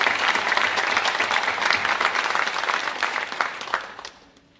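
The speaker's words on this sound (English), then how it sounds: "but Jessica should be given a round of applause for her outstanding achievement." A crowd at an academic awards ceremony applauds steadily with dense clapping for several seconds, then the clapping thins out and fades to quiet.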